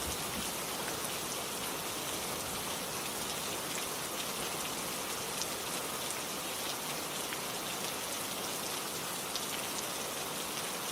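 Steady, dense rainfall pattering on a surface, an even unbroken hiss with scattered droplet ticks throughout, no voices.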